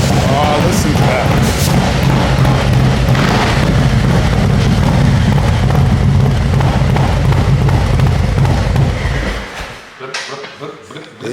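A Harley-Davidson Road Glide with a stage 2 engine idles close by, a loud, lumpy low rumble with an uneven loping beat that runs steadily, then cuts off abruptly near the end.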